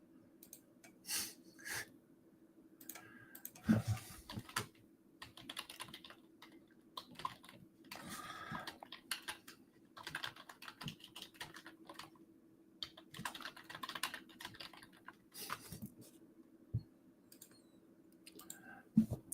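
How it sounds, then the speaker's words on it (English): Computer keyboard typing in quick irregular bursts of clicks, fairly close, over a steady low hum, with no talk. "Sorry, I'm typing."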